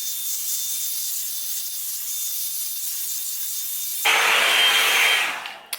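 A Revlon One-Step hair dryer brush drying hair, a steady airy hiss that grows louder and brighter for a moment, then cuts off with a click near the end.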